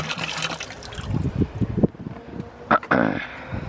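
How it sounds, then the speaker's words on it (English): Pond water pours into a container at a backyard pond, a splashy trickle with bursts of louder gushing, close by with some handling noise. "put the pond water in"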